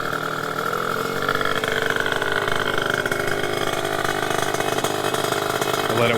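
A two-stroke AF16 moped engine idles after being kick-started, a steady close buzzing drone with a slight uneven throb running throughout, loud and alone.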